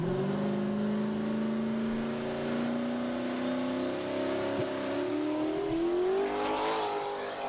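Drag race car revving loudly with a rising engine pitch that builds steadily as it launches off the two-step, holding a strong continuous roar to the end.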